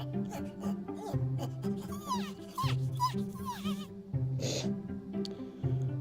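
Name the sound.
AR pet dragon app's high-pitched dog-like noise when picked up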